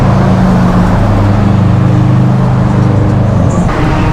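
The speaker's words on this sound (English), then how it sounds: "Got a Subaru getting it out the gate." A Subaru car engine hums steadily nearby as it rolls slowly out of a gate in Japan, with a constant low drone and faint background noise.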